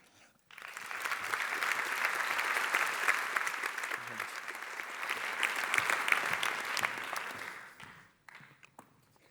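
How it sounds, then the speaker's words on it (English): A sustained round of applause from a university audience, starting abruptly, holding steady and fairly dense for about seven seconds, then tapering off quickly to a few stray claps. "Please give a big round of applause for Joost van de Akker."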